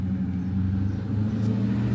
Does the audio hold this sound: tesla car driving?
yes